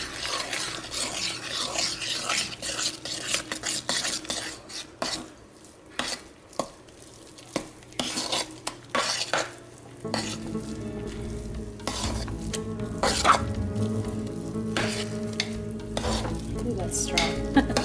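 Scent oils are stirred gently into a batch of hot process soap, giving close, repeated soft scraping and squelching strokes with sharp taps of a utensil against the pot, thickening into a denser churn later on.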